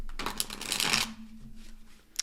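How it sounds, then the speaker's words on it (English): A deck of tarot cards shuffled up close in a quiet room, a dense papery riffle that builds and then cuts off, followed by a brief faint flick of a card. "Let's try that one more time because that was such a dissatisfying shuffle."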